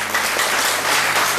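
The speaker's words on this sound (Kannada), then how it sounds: "ಚಪ್ಪಾಳೆ ಮೇಡಮ್." Audience applause at a pickle-themed game show event, a brief burst of steady, dense clapping from a crowd.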